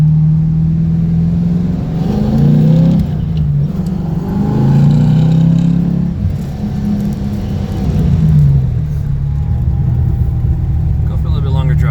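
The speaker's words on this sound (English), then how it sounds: "A little bit boomy inside the car when you start going." A 1992 Ford Mustang GT with SVE headers, SVE X-pipe and Mac Pro dumps rumbles while driving, its deep exhaust note rising and falling in slow waves of acceleration, heard from inside the car.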